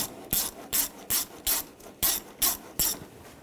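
Screws are driven into a 2009–2017 Volkswagen Tiguan AC condenser and receiver drier assembly, giving about eight evenly spaced, close ratcheting grinds in a steady rhythm.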